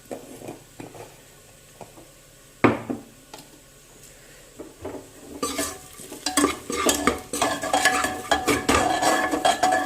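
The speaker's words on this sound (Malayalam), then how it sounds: "നന്നായിട്ട് വഴറ്റി കൊടുക്കാം." Onions sauté with turmeric powder in a pan for Kerala-style chicken curry; a quiet sizzle with sparse taps gives way to a sharp knock, then vigorous, rhythmic stirring and scraping grows louder and busier near the end, with no talking.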